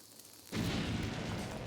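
A bomb blows up in The Legend of Zelda: Link's Awakening on Switch, a sudden loud burst half a second in that lingers as a sustained noisy rumble, with no voices.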